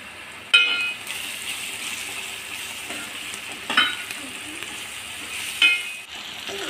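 Onions fry with a spoon of ginger-garlic paste and a little turmeric for a tomato egg curry, a steady close sizzle punctuated by three sharp spoon scrapes and clinks against the pan.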